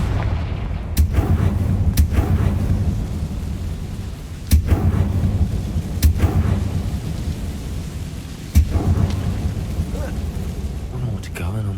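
Fire-spell blasts in the video game Hogwarts Legacy, a series of sharp explosive cracks and booms that recur every second or two over a constant low rumble of game ambience.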